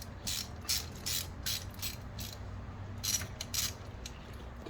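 A hand ratchet loosens a spark plug on a Dodge Durango HEMI engine, giving repeated close, crisp clicking bursts in an uneven rhythm over a low garage hum, with no voices.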